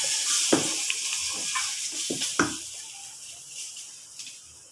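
Spices with shahi jeera and chili powder sizzle in hot tempering oil in a pan for a mutton dal with bottle gourd, with a steady close hiss broken by a few scraping stirs of a spoon.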